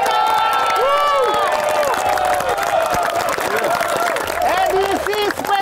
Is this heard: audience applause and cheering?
yes